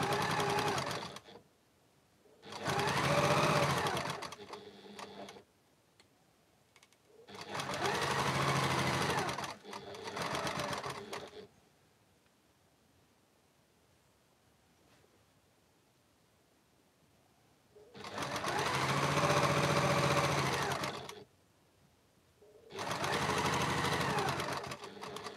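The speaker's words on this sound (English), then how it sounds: "We're going to sew our block three onto this over here." A sewing machine stitches quilt blocks together in several loud, steady bursts of whirring, separated by quiet pauses, with no talking over it.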